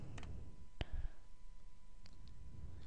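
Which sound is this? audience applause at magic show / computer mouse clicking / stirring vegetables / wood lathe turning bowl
computer mouse clicking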